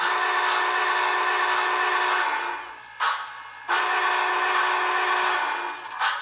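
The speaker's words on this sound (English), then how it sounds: "Here's a quick view of the whistle again." A steady, loud whistle from an HO-scale model Big Boy 4-8-8-4 steam locomotive blows continuously, briefly dropping away twice before resuming, with a faint hiss in the background.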